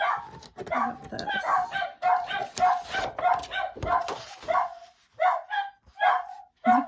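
Agitated household dogs barking in a long, dense run of loud yaps and woofs close by, thinning to spaced single barks near the end.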